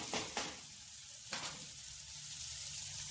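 Cluster beans sautéing in a pan with a continuous close sizzle, punctuated by a few scraping stirs of the spatula near the start and middle.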